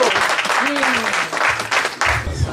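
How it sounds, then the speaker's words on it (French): An audience in a hall claps at a French-language event, a dense burst of applause with a voice speaking over it. "Veuillez vous applaudir tous."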